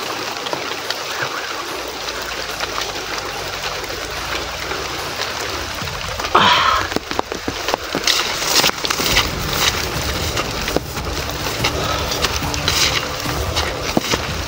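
Rain falls outdoors in a steady, dense hiss that thickens partway through, with scattered heavier drips and splashes close by and no voices.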